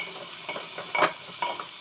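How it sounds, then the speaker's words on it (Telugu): Eggplant frying in a little oil while chili powder and salt are stirred in, a steady sizzle broken by a few scraping stirs of a spoon against the pan, close and clear with no voices. "సో ఇంకా మనం ఉప్పు కారం వేసిన తర్వాత ఒకసారి మిక్స్ చేసుకుందాం."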